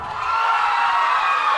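A crowd at a lively dance event shouts and cheers together, a loud sustained burst of voices filling the space.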